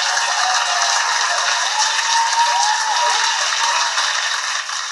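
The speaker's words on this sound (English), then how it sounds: "You deserve a round of applause." Applause from an audience at a team-building workshop after a short group exercise, a steady dense wash of clapping with no voices on top, holding level before easing off slightly at the end.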